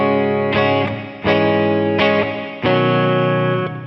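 Electric guitar played through an amp with a TC Electronic Hall of Fame reverb pedal, a slight touch of reverb on the amp setting: four sustained, distorted chords struck about a second apart, each ringing out with a faint reverb tail.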